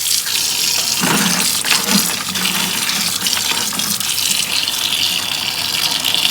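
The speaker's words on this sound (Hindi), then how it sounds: "सबसे पहले हम फालसा धो लेंगे।" Half a kilo of phalsa berries being washed under a running kitchen tap, a steady loud gush of water splashing into a sink throughout, with no talking.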